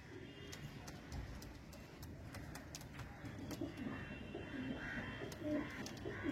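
Pigeons cooing softly in a loft, low murmuring calls under steady background noise, with faint ticking clicks scattered throughout.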